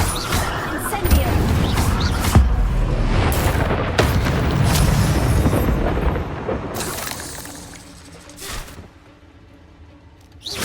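Booming Confringo and Incendio spell blasts in Hogwarts Legacy gameplay, a loud run of explosive bursts and crackling impacts for several seconds that then fades to near quiet before another sharp blast, with a voice shouting over them.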